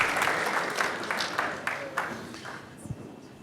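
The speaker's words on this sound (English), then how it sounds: "Give yourself a round of applause." A small audience at a motivational talk claps together, starting loud and dense and then thinning into scattered claps that fade out over a few seconds.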